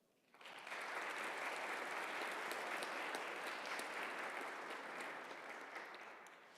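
Audience applause welcoming guests to a military academy panel discussion on allies and partners, a dense steady burst of clapping that starts abruptly and holds at full strength before easing slightly near the end.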